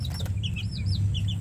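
Chickens cluck in a backyard coop of breeding fowl, a short burst of close, repeated clucks and chirpy calls over a steady low hum, with no talk.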